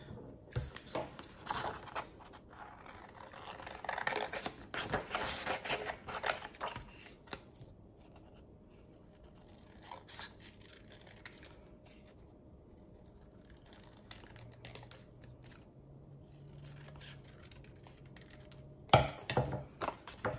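Scissors snip through paper in short, scattered cuts, close and fairly quiet, with rustling of the sheet between snips and quieter stretches in the middle.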